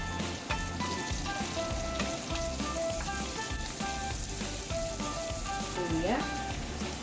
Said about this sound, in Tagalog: Pwede mo nang itabi at simulang igisa ang bawang